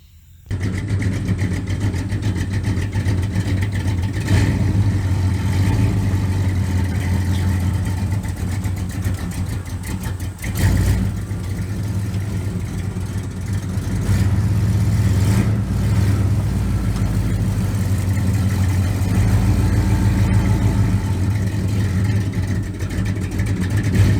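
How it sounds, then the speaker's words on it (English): A 1972 Chevrolet C30 truck on a farm runs steadily as it drives back and forth over tall weeds, its mid-pitched engine droning continuously and rising in effort a couple of times, fairly close and alone without talk. "let's see if we can't mash these down with the truck"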